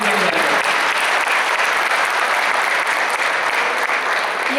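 Steady, loud applause from a concert audience at a live Marathi music show, dense clapping filling the space without a break and no voices standing out.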